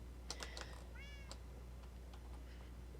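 Cats meow in a quiet indoor room, a few short cries followed by one longer rising meow, faint and close, with light keyboard-like tapping nearby.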